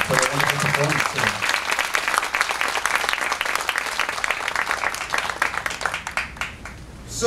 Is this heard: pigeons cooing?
no